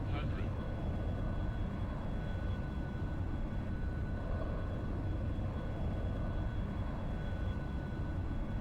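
Steady jet engine roar of a Cirrus SF50 Vision Jet in a flight simulator during a takeoff run, a constant broadband rumble with a faint high whine, a voice speaking briefly over it.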